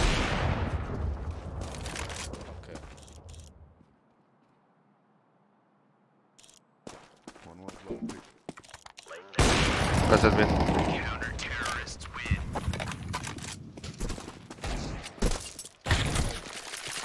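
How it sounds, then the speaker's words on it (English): AK rifle fire rattles in Counter-Strike on the Source 2 engine, dense bursts of shots and mechanical clatter, with a near-silent gap partway through before heavier, louder firing resumes, and a voice talks at times. "Man, the sound of AK is so weird."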